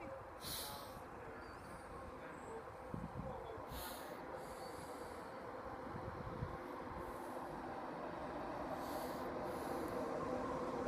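Class 91 electric passenger train 91118 rolls steadily into Newark North Gate station, its low rumble building gradually, with faint station sounds and distant voices in the background.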